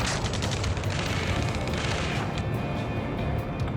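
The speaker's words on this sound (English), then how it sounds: "Taking fire! We're pinned down! Shoot back!" Sustained heavy gunfire and booming blasts in the Ace Combat 7 video game, a loud continuous barrage of rapid shots through the whole stretch with little break.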